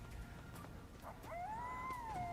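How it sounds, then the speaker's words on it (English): A dog howls in Ninja Gaiden 2 Black, faint at first, then a rising, wavering wail that holds and bends in pitch near the end over a low background rumble. "Oh no, it's the dogs."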